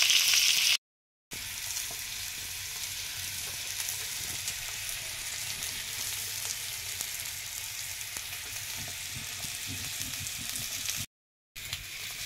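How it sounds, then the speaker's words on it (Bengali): Fish fries slowly over low heat on a small tawa, a soft continuous sizzle and crackle of oil heard close and steady without speech. "এরকম করেই আস্তে আস্তে জাল দেবো, তারপরে আমি ভেজে নেব"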